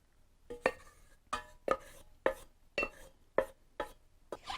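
Rhythmic scraping and clattering of a utensil against a bowl while mixing vegetables in brine for coleslaw, about eight regular strokes, close and fairly loud, with no talking.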